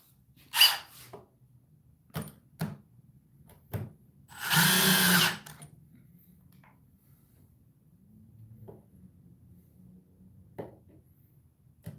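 A Dewalt DCD1007 hammer drill whirs in short spurts and then one loud sustained burst of about a second, near and clear, with scattered knocks and quiet gaps between.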